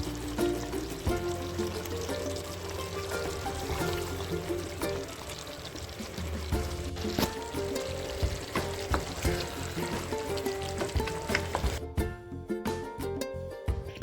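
Mutton being sautéed (kosha) in a pan for a Bengali home meal, a steady close sizzle with stirring scrapes and clinks running throughout, no talking.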